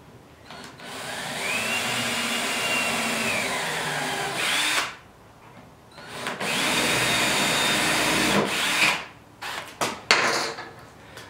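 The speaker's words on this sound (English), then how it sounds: "We want to pre-drill all of our holes." A power drill whirs into butcher block wood in two long sustained runs, drilling pilot holes, followed by a few short bursts, loud and nearby.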